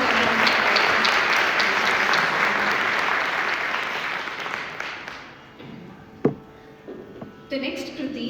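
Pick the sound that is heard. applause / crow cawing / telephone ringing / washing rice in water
applause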